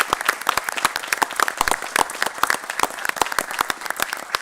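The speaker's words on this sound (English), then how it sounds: "can we give Nikki a round of applause for her efforts?" A budget-address audience claps for a woman who helped with a cardiac save, a close, lively burst of many hands with distinct sharp claps that keeps going without a pause.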